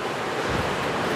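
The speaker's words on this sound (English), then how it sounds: "It is cold and it's windy. We got 30 mile an hour winds." Strong 30 mph wind gusts over rough, whitecapped water, a steady broadband roar of surf and wind buffeting the microphone, loud and continuous with no voices.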